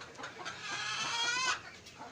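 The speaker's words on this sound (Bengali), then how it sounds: "এই যে মুরগিগুলো খাচ্ছে সামনে দেখতেছেন ভিডিওতে" Laying hens cluck close by while feeding on black soldier fly larvae, giving a short run of drawn-out, warbling clucks that swells and then fades.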